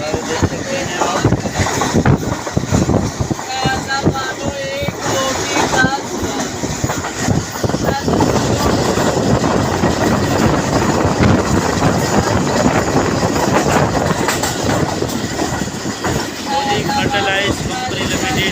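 Hazara Express 12 Down passenger train running toward Karachi rumbles and rattles continuously, with buffeting wind noise over the whole stretch and someone speaking over it at times.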